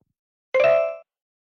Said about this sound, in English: Just then, the doorbell rang again,